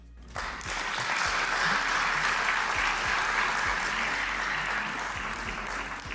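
A large audience applauds at a Merck Foundation inauguration ceremony after a speech, sustained, even clapping from many hands that starts abruptly and holds steady throughout.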